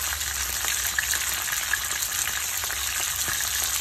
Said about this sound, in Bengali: আমি পাবদা মাছগুলি হলুদ লবণ দিয়ে ভেজে নিচ্ছি, ভেজে উঠিয়ে রাখবো